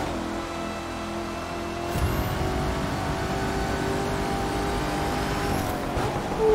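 Corvette ZR-1 Convertible in The Crew 2 racing game, engine roaring at full throttle, steady loud drone rising after a couple of seconds with tonal engine whine and no talk.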